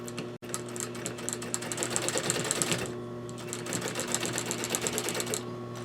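Close up, a sewing machine joins welt cord onto a Parson's chair slipcover with a fast, even mechanical whirr and needle chatter, briefly slowing mid-run before speeding up again, a low hum beneath.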